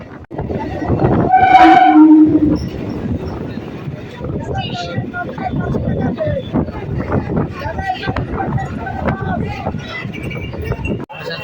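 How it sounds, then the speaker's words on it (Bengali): A local train on the Barasat to Canning line rumbles along at 80 to 90 km/h with a steady roar and rattle, and a loud horn blast sounds near the start. "আমাদের ট্রেনটা গতি নিয়ে নেয় আশি থেকে নব্বই কিলোমিটার প্রতি ঘন্টায়"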